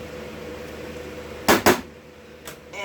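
A microwave oven heats pita breads with a low, steady hum, then two sharp clunks of its door sound close together, followed by a softer click near the end.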